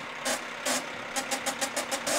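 A car damaged in a sideswipe runs with a noise from underneath the engine, a steady hum broken by bursts of rattling or knocking at irregular then quicker intervals.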